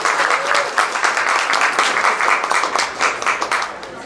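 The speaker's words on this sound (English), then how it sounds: "Round of applause for Rafaela." A large audience at a Temple City Chamber of Commerce public safety event bursts into sustained applause, a dense, steady wash of clapping hands at close range with slight swells and no talk over it.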